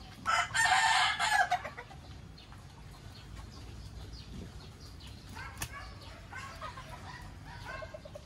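Chickens clucking around a loud rooster crow near the start, followed by scattered clucks and faint background voices.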